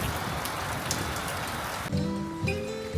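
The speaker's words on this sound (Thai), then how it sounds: "ใส่ชุดกันฝนเดินลุยฝนกันไป" Rain falling on a mountain trail on the Mardi Himal trek in May, a dense steady patter of drops that gives way near the end to quieter dripping with a low rumble underneath.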